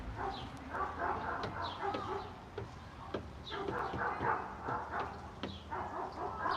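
Several dogs barking intermittently at a distance outdoors, sharp repeated barks scattered across the moment, with chickens clucking nearby at a fairly quiet level.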